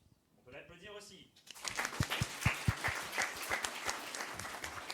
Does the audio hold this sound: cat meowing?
no